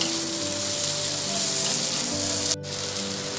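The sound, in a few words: stirring green chillies and spices frying in a pan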